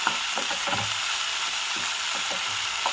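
Cumin and white sesame seeds sizzle in hot oil with a constant close hiss, with soft rhythmic scraping as the pan is stirred.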